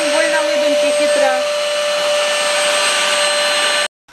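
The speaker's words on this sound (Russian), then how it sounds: "И будем пылесосить вот так маленькой." A vacuum cleaner fitted with a small nozzle attachment whines steadily and loudly up close, its pitch wavering briefly near the start before holding even, then cutting off abruptly just before the end.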